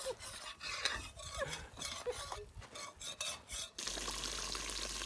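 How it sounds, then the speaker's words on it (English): Coconut milk cooking down into coconut oil in a pot gives a dense, steady bubbling sizzle with scraping and stirring noises throughout, close and continuous, without talk. "That is the sound of coconut oil, my friend."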